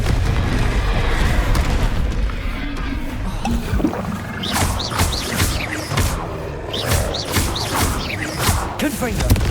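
Confringo explosion spells go off in Hogwarts Legacy combat: a run of loud booming blasts and bursts, several in quick succession, over rumbling game noise.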